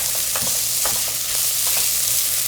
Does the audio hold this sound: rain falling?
no